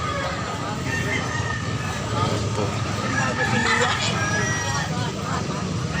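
A big Talisayon gray rooster crows amid a busy crowd, the calls rising over steady hubbub and nearby speech at a gamefowl farm in Carbon, Cebu.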